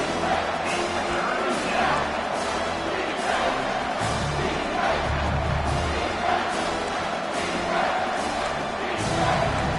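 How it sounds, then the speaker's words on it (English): Home crowd roars in a college football video game as the defense tries for a third-down stop, a steady loud wash of cheering with thumps, under broadcast-style commentary. "Here comes this home crowd as the defense tries to get off the field on third down"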